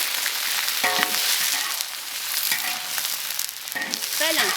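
Green beans and eggplant hit hot oil in a wok and are stir-fried, with loud continuous sizzling and a few sharp metallic spatula scrapes against the pan.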